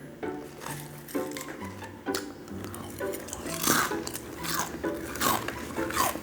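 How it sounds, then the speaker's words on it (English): A person chews food loudly and wetly, with repeated crunchy, squishy bites at an uneven rhythm, close to the listener and with no talking. "could you chew any louder?"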